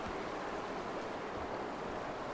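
A waterfall in the video game Far Cry Primal gives a steady, dense rush of falling water, a continuous broadband roar with no breaks.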